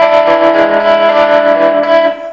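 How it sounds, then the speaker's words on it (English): Electric guitar chord with heavy tremolo and reverb, the sustained tone pulsing rapidly and evenly before fading, loud and close. "Loads of tremolo, loads of reverb."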